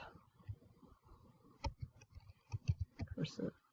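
Keys on a TI-Nspire CAS CX graphing calculator are pressed in a quick, irregular series of small plastic clicks, close and fairly quiet, with short pauses between taps.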